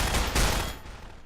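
Gunshots in Estranged, a Half-Life 2 mod, set in a creepy town: a quick burst of close, loud shots rings out at the start, then fades into a decaying tail.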